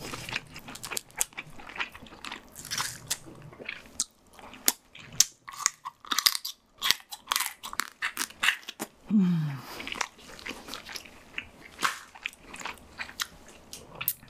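Close crunching and chewing of king crab shell and meat dipped in salsa sauce, with irregular bites, cracks and soft mouth sounds over several seconds, plus a few brief vocal noises.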